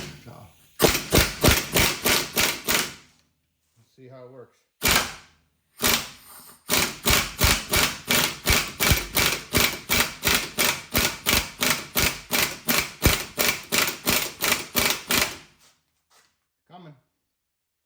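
Steady, rapid hammer blows strike a hub buster tool to free a ball joint on a 2008 Silverado 1500 4x4 with aluminum knuckles, loud and close in long bursts with short pauses. Someone speaks briefly.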